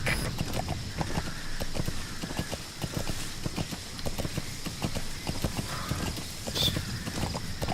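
Horse hooves gallop in a steady, continuous clip-clop rhythm across open ground in Metal Gear Solid V: The Phantom Pain, moderately loud throughout with faint ambient background.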